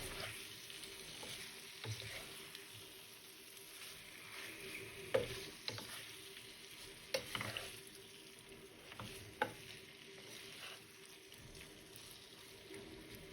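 Potatoes frying in a covered pan with paprika, a soft continuous sizzle with occasional faint pops and clinks, quiet and steady throughout.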